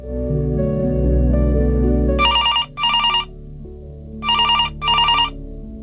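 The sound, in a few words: telephone ringing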